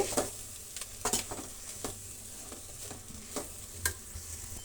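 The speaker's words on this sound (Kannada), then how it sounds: "ಖಾರದ ಪುಡಿ ಕಡೆಯಲ್ಲಿ ನೀವು ಫ್ರೈ ಮಾಡ್ಕೊಳ್ಳಿ." Chilli powder frying in a pan for bitter gourd sambar: a soft, steady sizzle with several quick scraping stirs of a spoon against the pan, close by, with no voices.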